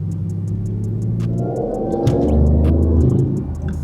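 A BMW i8 fitted with a Quicksilver exhaust revs up: a deep, close engine rumble swells in the middle and holds loud before easing slightly, with no voices.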